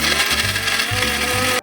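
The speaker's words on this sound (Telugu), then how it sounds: "ఇప్పుడు వీటిని మిక్సీ పట్టుకుందాం." A mixer grinder churns onions, small tomatoes, cumin and coriander seeds into a paste, a loud, close, continuous rough grinding roar with a slightly pulsing low hum, stopping abruptly at the end.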